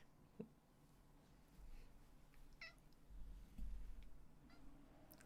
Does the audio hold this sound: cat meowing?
yes